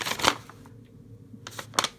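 Vintage paper pages and tissue paper are handled close up in two short crisp bursts of rustling and crinkling, with a quiet pause between them.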